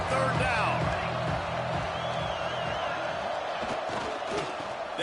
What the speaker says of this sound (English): The Red Raider crowd rising to the occasion to help its defense on 3rd down.